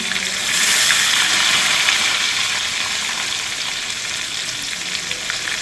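Fish frying in bubbling oil for a meen kulambu meal, a loud, continuous close sizzle and crackle with no talk.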